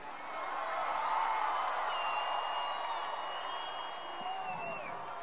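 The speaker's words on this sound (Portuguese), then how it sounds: "Pode vaiar à vontade." A protest crowd boos and jeers loudly outdoors, a dense, continuous roar of many voices with whistles running through it and no break.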